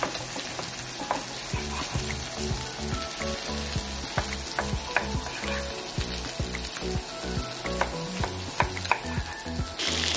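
Meat sizzles and fries steadily in a hot pan, with frequent clicks and scrapes of stirring over a continuous close crackle, no voices.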